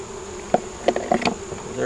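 Honey bees hum steadily at an open hive, with a few individual bees buzzing past close by.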